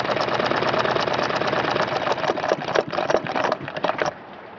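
A foot-powered treadle sewing machine runs with a fast, even mechanical clatter, a rhythmic whirring rattle like an old machine turning, then it slows and stops near the end.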